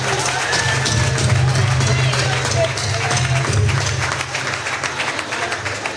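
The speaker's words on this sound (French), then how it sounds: "applaudissez pour elle" An audience at a church gathering in Cotonou applauds, dense steady clapping with crowd noise and voices over a low hum.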